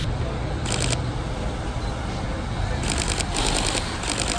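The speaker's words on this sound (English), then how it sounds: "I just breathe on the shutter and bang, like five photos just like immediately in half a second" A Sony a7R IV mirrorless camera fires rapid shutter bursts, two quick clusters of crisp clicks close to the microphone over a low background hum.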